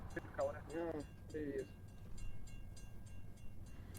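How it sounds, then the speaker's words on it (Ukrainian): Train rumbling along rails in the GTA video game, a low, steady rolling drone with faint rhythmic clacks, while a voice talks briefly over it at the start. "Що там поезд їде, да?"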